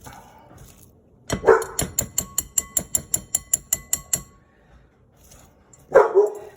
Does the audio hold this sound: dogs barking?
yes